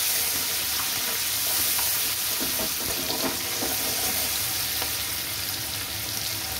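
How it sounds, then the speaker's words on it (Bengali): Garlic sizzling in the mustard oil left after frying potatoes, a bright steady crackle with occasional stirring scrapes, close and fairly loud, no voices. "রসুনটা একটু ভেজে নেব।"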